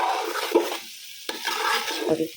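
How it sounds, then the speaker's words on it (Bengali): Close, uneven scraping and stirring in a pan as vegetables, lentils and rice are stir-fried together, with a soft sizzle underneath, coming in short bursts with brief pauses. "সবজি ডাউল চাউল একসাথে ভালোভাবে এটা ভাইজা নিব"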